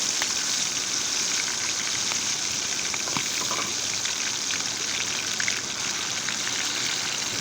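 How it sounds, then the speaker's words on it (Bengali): Turmeric frying in very hot oil while making biryani, a steady close hiss and sizzle with scattered crackles and pops throughout, no talk. "শুধু হলুদ দিলে হবে, হলুদ দিয়ে ভালো করে ভেজে নেব।"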